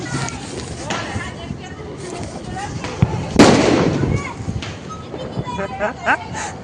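Firecrackers go off at a New Year picnic, with one sharp, loud burst midway standing out above steady crowd chatter and overlapping voices.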